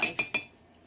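A knife clinks against a cup three quick times while butter is scraped off the blade, each strike sharp and close, followed by near silence.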